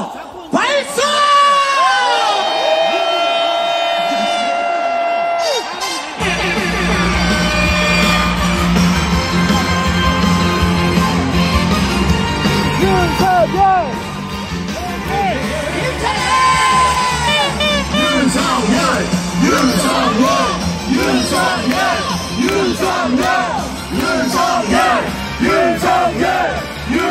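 A large crowd at a political rally in Yeouido, Seoul, roars with sustained shouting and cheering, dense and loud throughout, with whoops and yells rising out of the mass of voices.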